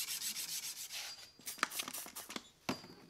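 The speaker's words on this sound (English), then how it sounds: "I use Windex as a lapping fluid when sanding" Sanding a stainless damascus chef knife blade with Windex as a lapping fluid, soft wet rubbing strokes in quick repeated passes, close and fairly quiet, without talk.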